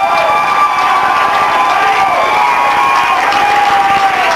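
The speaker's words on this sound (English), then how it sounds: "Now you can get up and cheer." A loud crowd roars and cheers in the final minute of a 2005 high school football game between Mount Vernon and Belleville Althoff, with sustained shouting and whistles throughout.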